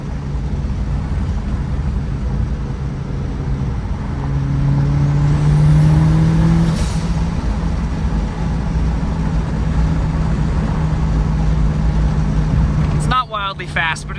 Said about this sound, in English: Do a couple shifts here, downshift.